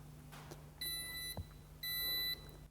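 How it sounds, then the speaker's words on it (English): Two distinct electronic beeps, about a second apart, from a nearby RollMatic T 868 MHz wireless safety edge receiver after its program button is pressed, with a faint click between them. "Press and release the program button again, you will hear 2 beeps"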